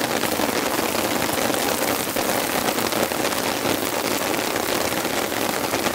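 A full-on deluge of heavy rain hammers a camping tent in a constant, dense roar with no pauses and no voices.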